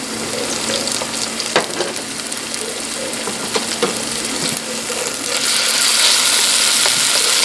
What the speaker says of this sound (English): Now I want to add just about a teaspoon of garlic, minced.